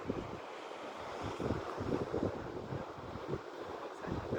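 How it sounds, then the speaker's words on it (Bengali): North Atlantic Ocean surf roaring steadily below a hilltop, a broad, continuous rush of waves mixed with wind buffeting the microphone, swelling slightly in places with no voices. "সমুদ্রের গর্জন শোনা যায়"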